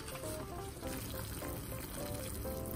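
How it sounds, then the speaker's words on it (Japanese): Hot water is poured from a freshly boiled kettle into a Peyoung instant yakisoba cup, a steady close gurgling pour that runs throughout with no talk. "お湯が沸いたのでちょっとお湯を入れていきたいと思います"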